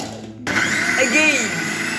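A blender whirs into action chopping muskmelon pieces for juice, starting abruptly after a short lull and running loud and near with a strained motor whine that shifts in pitch.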